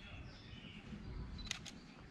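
A Canon RP camera fires its shutter at 1/250 s and f/4 with a 70-200 mm lens, giving two quick, crisp clicks close to the microphone over a soft background hiss.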